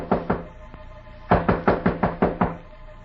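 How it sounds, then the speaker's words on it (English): Knocks on a door ring out as a radio drama sound effect: two quick raps, a brief pause, then a firm run of six evenly spaced knocks, loud and close, with no voices. "Suddenly there was a knock on the door."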